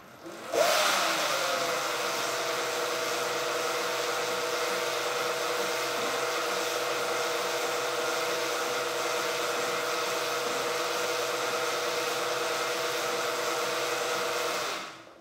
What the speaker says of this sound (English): So we're gonna begin and the wheel will start spinning.